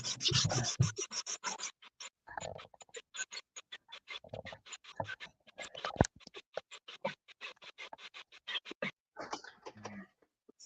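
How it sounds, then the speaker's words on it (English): Hand sanding of an aircraft cowl, with a steady run of short, rhythmic scratching strokes that are fairly quiet and close, in some places heavier and faster, and no talk. "once I get this thing sanded in pretty close"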